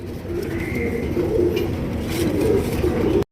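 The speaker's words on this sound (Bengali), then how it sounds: "দুইটাই হচ্ছে নর কবুতর দেখেন" Two male pigeons cooing nearby in low, throaty rolling calls, repeated over a soft background hum.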